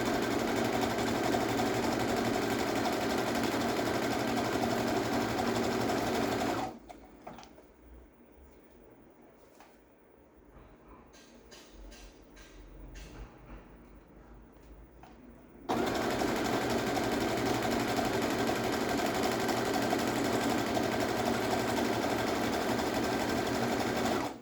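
A sewing machine runs steadily and close while stitching a pair of panties, stops for several seconds of quiet handling of the fabric, then resumes at the same steady pace.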